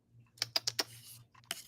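Typing on a computer keyboard, a quick burst of four sharp key clicks followed by a pause and a couple more taps, close and fairly quiet in a still room.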